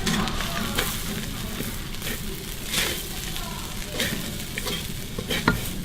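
Kaffir lime leaves hit a hot pan of Thai stir-fried chili duck, giving a steady sizzle and frying crackle with occasional scrapes of a spoon stirring, close and moderately loud throughout.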